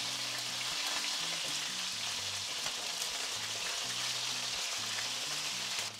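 Chicken pieces searing in oil over high heat, a steady, even crackling sizzle throughout with faint low kitchen hum beneath and no talking.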